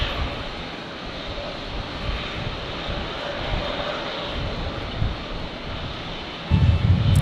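A Jetstar airliner roars at a windy Brisbane Airport, its jet engines producing a sustained, fairly loud rushing drone mixed with wind buffeting. A sharper low gust hits the microphone near the end.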